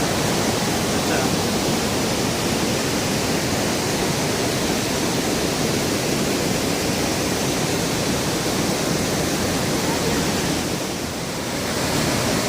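Water crashes over rocks at Bhatinda Falls, a powerful waterfall in Dhanbad, Jharkhand, making a loud, steady, broadband roar that fills the whole stretch without a break.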